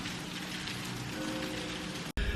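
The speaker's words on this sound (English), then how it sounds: "downpouring." Heavy rain pours down steadily in a dense, continuous wash of drops hitting surfaces, loud and close, ending in a brief sharp cut near the end.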